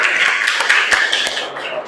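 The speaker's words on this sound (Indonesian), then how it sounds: "Berikan tepuk tangan." An audience at a school lesson claps steadily together, a dense patter of many hands close by with a few sharper claps standing out.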